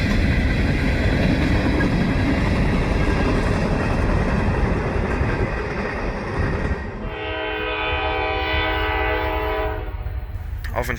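A loud CSX coke freight train rumbles past at Fostoria for the whole stretch. Partway through, the heavy roar gives way to a steadier rolling clatter with a high tonal squeal.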